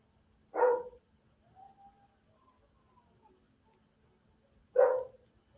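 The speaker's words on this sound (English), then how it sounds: "If you guys can hear that, those are my dogs. It must be another dog out and they're not happy." Two short, loud dog barks spaced about four seconds apart, with quieter faint sounds between them; no talking.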